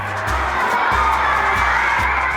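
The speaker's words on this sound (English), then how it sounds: "give her a round of applause" A crowd including children cheers and claps for a presenter at a waste-management education event, a dense, loud wash of applause and shouts.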